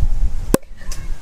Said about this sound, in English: This is your first time popping a bottle?